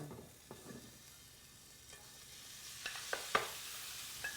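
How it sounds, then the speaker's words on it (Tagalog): Beef pieces dropped into about four tablespoons of hot cooking oil in a preheated saute pan, giving a quiet, steady sizzle with a few sharp pops and clinks toward the end. "I'm preheating a saute pan here with about 4 tablespoons of cooking oil. Tapos, ilagay na natin ang ating beef."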